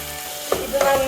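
Onion, tomato, chili, garlic and ginger sauté in a pan for chicken varattu, giving a soft continuous sizzle with a couple of louder stirring scrapes.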